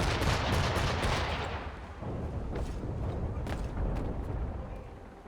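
Musket gunfire and battle noise from Assassin's Creed 3 during an assault on Charlestown, a loud rumbling volley at first that fades into scattered distant shots and sharp cracks.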